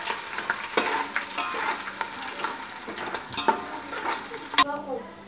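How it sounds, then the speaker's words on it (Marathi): Garlic and curry leaves fry in hot oil in a pan, with steady sizzling crackle broken by repeated sharp scrapes and clinks of a stirring spoon, close and moderately loud. "आपला लसूण थोडंसं लालसर आपण परतून घेणार आहे"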